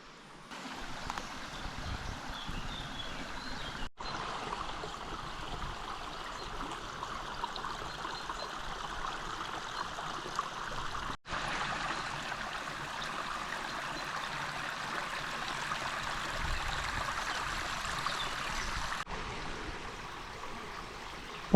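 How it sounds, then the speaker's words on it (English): A stream runs through the green Mili gorge, past small waterfalls, a small aqueduct and an old water mill, giving a steady, even rush of flowing water with no voices. "and water running everywhere."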